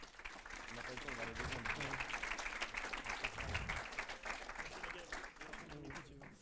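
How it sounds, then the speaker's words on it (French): A room of spectators claps steadily for a team at a tech demo day, a dense, even wash of applause from nearby, with voices chattering underneath. "on les applaudit très fort"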